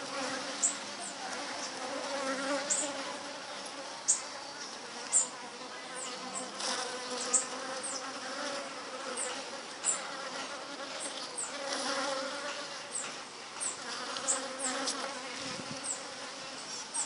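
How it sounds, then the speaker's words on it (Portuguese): City bees buzzing steadily at close range as they feed on sugar water, a faint continuous insect drone with a few louder passes of individual bees. "essas abelhas voam uma distância grande"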